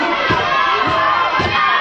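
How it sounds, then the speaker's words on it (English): A wrestling crowd at the Sawmill roars behind hometown wrestler Chris Baum, a dense, steady wall of cheering and shouting with a few louder swells of yells rising out of it, no commentary over it. "you hear this crowd get behind the hometown boy, Chris Baum, right here at the Sawmill"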